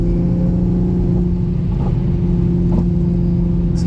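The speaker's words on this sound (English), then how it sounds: "Partial throttle, not even at 50" Toyota A90 Supra engine at partial throttle while driving: steady droning engine hum with a strong low rumble and sustained tone, close and continuous, without talking.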